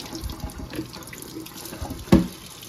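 Tap water runs steadily into a sink as sticky, overfilled homemade ginger beer bottles are rinsed. Near the end, a bottle knocks sharply against the sink.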